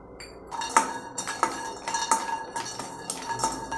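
Almonds and cashews drop into a kadai pan in several separate bursts of small, clinking hard hits, each a quick scatter of nut-on-metal clicks, close and fairly clear with no talking.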